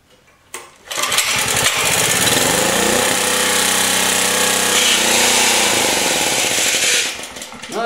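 A Generac G-850 generator with a Kawasaki engine roars to life close by, running loud and rough for about six seconds before sputtering down.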